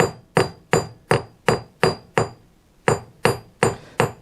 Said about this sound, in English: working the bump, I'm going to hit harder.